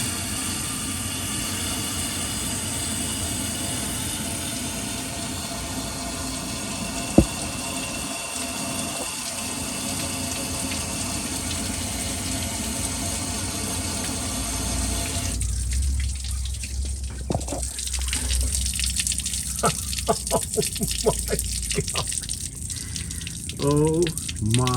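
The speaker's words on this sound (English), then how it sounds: "the clip from last week where the water's pouring out of the back" Water pours and splashes out of the back of an electric water pump on a Chevy small-block 406, a steady wash that turns gurgly and more uneven in the last third.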